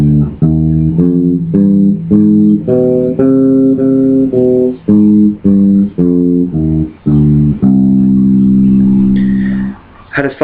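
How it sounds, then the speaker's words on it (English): Bass guitar plays a C harmonic minor scale, one clear plucked note after another at a steady walking pace, ending on a long sustained low note, close and loud with no talk. "there's now a variation of the natural minor, the C harmonic minor"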